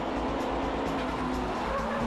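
A Honda NSX and a Nissan S15 run on the Fuji track, their engines making a continuous, fairly loud roar that stays steady throughout, with faint hints of voices in the background.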